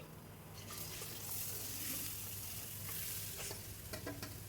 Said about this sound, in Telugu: ఈ చికెన్ మొత్తం వేసి మొత్తం కలిపేసుకోవాలండి.